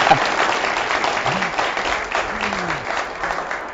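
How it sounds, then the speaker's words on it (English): Sustained applause for first-time winners from Montana at a community awards webcast: dense, even crowd clapping that holds steady throughout, with faint voices mixed in underneath. "give them a round of applause"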